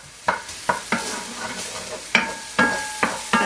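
Minced garlic sautés in a pan with a soft, steady sizzle, broken by a series of sharp clinks and scrapes as a utensil stirs and taps against the pan.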